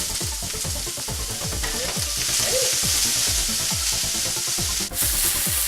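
Diced yellow onion sizzling loudly in oil in a pan, a dense continuous frying hiss up close with regular scraping strokes of stirring and no talk.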